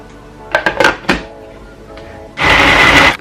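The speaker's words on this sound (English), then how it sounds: "Then I'll cover to blend." A few clunks and knocks, a pause, then a blender whirs on loudly and runs steadily until the end.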